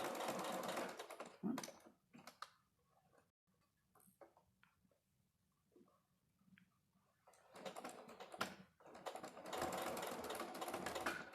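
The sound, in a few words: sewing machine stitching quilt binding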